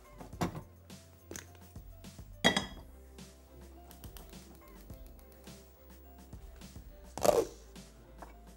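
Metal cookware clinks and clatters in a home kitchen as a cooking pan is picked up and set down, several sharp knocks spread through the quiet with one loud clank near the middle and another near the end.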